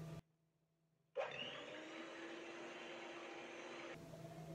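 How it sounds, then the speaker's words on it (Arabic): Electric hand mixer whirring steadily through chocolate cake batter of butter, oil and milk, starting abruptly after a brief quiet pause and running at a constant, close, motor-driven drone until it shuts off. "غادي نطربو هاد العناصر مزيان بالطراب الكهربائي"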